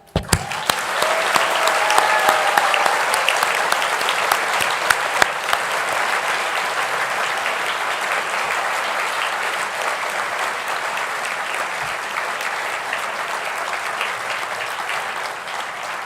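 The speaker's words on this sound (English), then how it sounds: "join me in giving a thunderous applause to celebrate that class, the graduating class of 2024" Thunderous applause from the crowd at the SSIS graduation ceremony for the class of 2024, a sudden loud onset swelling into sustained dense clapping that holds steady and slowly eases, with little talking.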